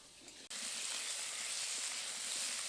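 Jujubes with salt and turmeric hiss in a hot pan as they are stirred, a sudden bright sizzle starting after a brief quiet and then holding steady and close.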